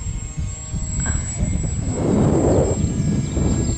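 A model airplane drones overhead in the open air, its engine a steady buzzing hum that swells louder toward the middle and stays fairly close, with no talking.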